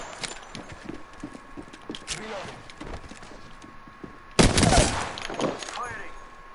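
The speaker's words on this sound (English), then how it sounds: "They're in a fight over here and I have no light ammo." Apex Legends gunfire crackles in rapid bursts during a fight, with a loud volley near the end of the clip, mixed with the game's other effects and heard under a voice.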